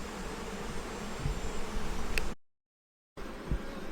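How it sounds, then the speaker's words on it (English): Bees buzz steadily near beehives in a buckwheat field in July, a close, continuous drone broken by a brief silent gap. "So there's a lot of bees in there."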